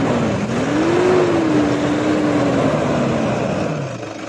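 An older Toyota Fortuner with a 3000 cc engine runs with a loud, steady, deep truck-like drone and a slight rising-falling pitch, close up, fading a little toward the end with no talk over it.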